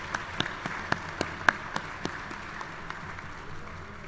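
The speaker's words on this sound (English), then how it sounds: "That's worth a clap." Scattered, sparse clapping at a university spring commencement ceremony, a handful of distinct claps in the first couple of seconds that thin out into quiet room noise.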